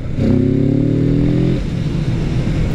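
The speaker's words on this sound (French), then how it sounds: "le bruit de boîte à air à l'accélération. Je vous fais écouter." A Kawasaki Z motorcycle's airbox roars hard under acceleration for about a second and a half, then the engine drops back to a lower, rumbling idle.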